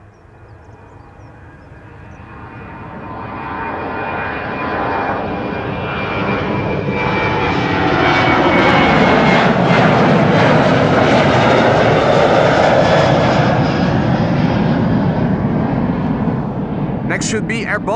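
A 19-year-old Boeing 737-800 takes off at Amsterdam Schiphol, its jet roar swelling over several seconds into a loud, sustained rumble that holds steady. Someone talks over part of it.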